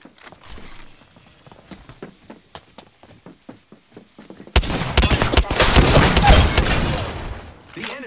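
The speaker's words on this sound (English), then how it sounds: "The enemies are shooting at me" Enemy gunfire in Apex Legends: a run of sharp, evenly spaced single shots at moderate level, then a sudden loud, dense burst of rapid fire that fades out toward the end.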